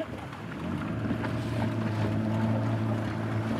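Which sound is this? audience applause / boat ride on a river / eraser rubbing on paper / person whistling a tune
boat ride on a river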